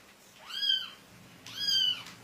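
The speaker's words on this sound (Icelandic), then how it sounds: "Það voru háir skrækir í kettlingnum litla sem komu björgunarfólki á sporið." Small kitten rescued from rubble in Borodyanka, Ukraine, giving two high, clear meows about a second apart, fairly close, over a quiet background.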